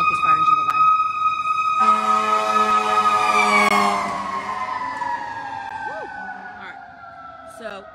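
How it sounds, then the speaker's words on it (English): A fire engine siren wails loud and close on a street, its tone rising and falling, then fades and drops in pitch as the truck passes and moves away. "there's a fire engine coming, so hold on one second."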